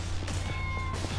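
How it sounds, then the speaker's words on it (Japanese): A cat meowing in the video game Yakuza 6: a single drawn-out meow with a clear tonal pitch, close and moderately loud over a low background hum. "猫の鳴き声めちゃくちゃするんだよな。"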